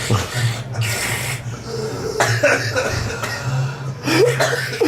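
A voice imitates clogged, congested breathing after vomiting, with wet snorting, gurgling and coughing noises sounding close and irregular over several seconds.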